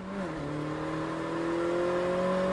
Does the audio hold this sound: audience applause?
no